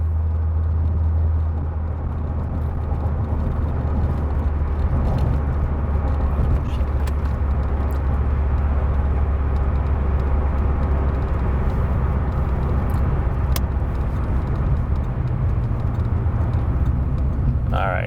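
A C4 Corvette with a rebuilt transmission runs on a sunny test drive in southern Michigan. Its engine gives a constant low, close rumble under the cabin, and someone speaks intermittently over it.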